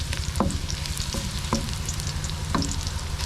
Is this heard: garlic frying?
yes